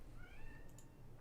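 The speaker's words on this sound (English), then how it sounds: "cat is crying." A house cat gives a single faint, drawn-out meow in a quiet room, thin and rising slightly, with a soft background hum and no talking.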